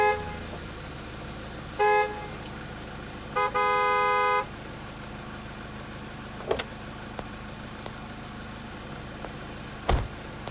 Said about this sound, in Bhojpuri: ड्राइवर कब से हॉर्न मारता